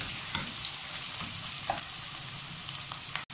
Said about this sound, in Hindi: अब मैंने एक मीडियम प्याज लिया और इसको मैं हल्का ब्राउन कर लूँगी